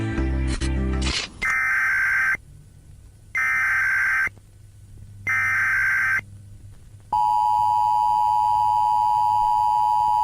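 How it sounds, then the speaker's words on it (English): Three loud, identical electronic alert tones pulse on and off at regular intervals, then give way to a sustained steady tone. "Those alarm sounds never mean anything good though."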